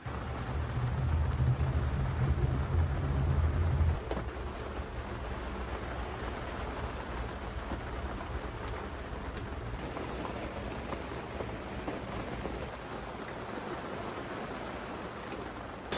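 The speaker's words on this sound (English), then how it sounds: "still pouring rain." Pouring rain outside an off-grid log cabin under construction in winter makes a steady, broad wash of noise with a deeper rumble in the first few seconds, continuous and moderately distant, with no one talking.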